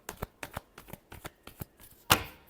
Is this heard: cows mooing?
no